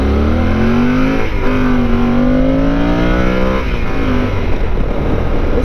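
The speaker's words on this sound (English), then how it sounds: "bike sounds pretty amazing when it's screaming" A Yamaha Super Tenere motorcycle engine revs hard and close on backroads, its loud whine climbing through the gears with short dips between shifts.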